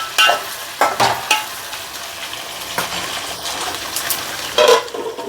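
Boiled home-grown taro roots frying in oil in a pan, a loud close sizzle with intermittent bursts of crackling and spatula scrapes, no voices.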